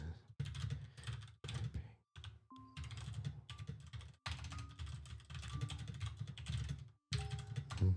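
Close, crisp keystrokes rattle on a computer keyboard in quick bursts, with short pauses between runs of typing.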